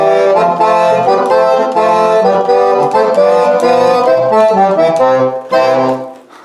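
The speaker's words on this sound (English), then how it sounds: "it also had the piccolo reed in it, so you'd have 16, 8, and 4, and so that would sound like this" A Roland accordion plays with its 16, 8 and 4 foot reeds together, including the piccolo reed, giving a bright, full, buzzy chorded tune that is loud and close before it fades out.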